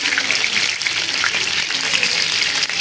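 Chicken pieces fry in hot oil for a Bengali roast and get turned over: a loud, close, crackling sizzle with a watery, bubbling texture that runs continuously.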